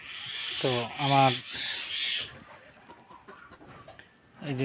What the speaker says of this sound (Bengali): এই যে 10টি মুরগি